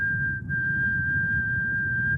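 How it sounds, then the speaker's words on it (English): A steady, slow whistle blown through O-shaped lips on a long breathing exhale, holding one pure pitch for about two seconds over a low breathy hiss. "And with your exhale, slowly whistle, if you can whistle, through the O-shaped mouth."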